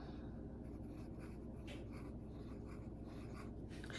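Broad-nib Benu Talisman fountain pen writing ink swatches on paper, faint, steady scratching strokes close up in a quiet room.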